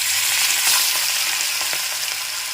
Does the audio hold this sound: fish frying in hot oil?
yes